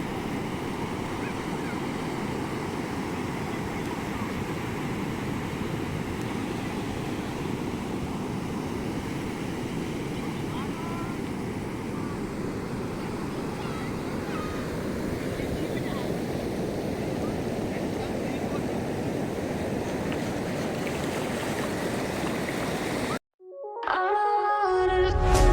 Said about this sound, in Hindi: ये बहुत ही ब्यूटीफुल बीच है साउथ गोवा का एंड फेमस फॉर सनसेट